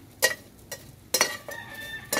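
Dried fish frying in a little cooking oil, heard as short sizzling bursts that come and go between quiet gaps, close and fairly soft, with a few light clinks of a utensil in the pan.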